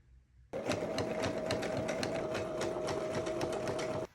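A sewing machine runs a zigzag stitch on quilt-block fabric pieces for a sweatshirt, a steady close whirring with rapid rhythmic needle clicks for about three and a half seconds, alone and without talk.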